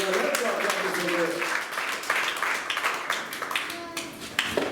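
A church congregation applauds, a lively burst of many hands clapping with scattered sharp claps over it, while a voice sings or speaks underneath across the clip.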